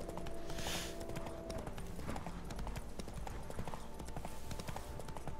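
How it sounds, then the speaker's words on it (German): Horse hooves in The Witcher 3, a steady, continuous clip-clop of a mare at a trot, moderately loud over faint game ambience. "Und reiten die männliche Stute."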